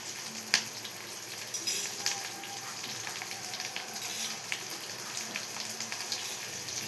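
Sesame seeds roast in a pan with a faint, steady crackle and sizzle, with occasional small pops and no voices.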